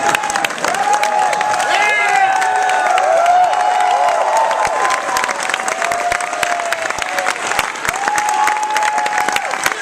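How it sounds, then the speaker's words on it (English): A live audience at a podcast taping at PAX East claps loudly and continuously, dense applause mixed with scattered cheers and whoops. "Feel free to applaud for Greg Miller."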